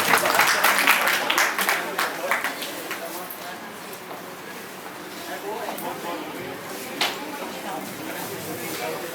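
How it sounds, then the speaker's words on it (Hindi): Audience at the Rajasthan Karmveer Award 2024 ceremony applauding an honoree, a burst of clapping that starts strong and gradually thins into scattered claps, with voices murmuring underneath. "एक बार जोरदार तालियां निरूपा जी"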